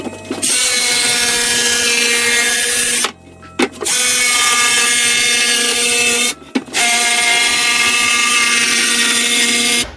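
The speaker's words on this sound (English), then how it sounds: "Jigsaw." A jigsaw cutting through wood for a floating shelf: three loud buzzing runs of the blade, each a few seconds long, broken by short pauses where the motor stops and restarts.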